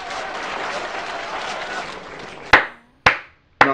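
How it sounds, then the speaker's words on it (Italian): A brief wash of crowd applause fades out, then three sharp, close single hand claps ring out, spaced about half a second apart. "Due minuti di applausi."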